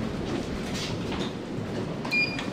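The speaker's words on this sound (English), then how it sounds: "Doors closing." Passenger lift doors sliding shut in a London building, a soft continuous rumble and whoosh from the closing panels, followed by a short electronic tone near the end.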